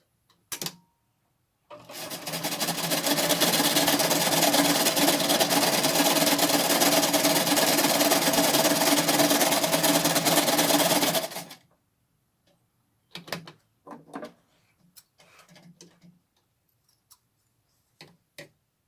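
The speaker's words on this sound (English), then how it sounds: "And now sew the curved edge of the main fabric." A sewing machine stitches the curved edge of the main fabric for a cotton face mask in one continuous loud whirring run of about ten seconds, followed by a few short clicks and handling noises.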